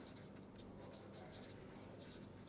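Faint scratching of a pen or chalk writing by hand during a physics tutorial, short repeated strokes against steady background hiss.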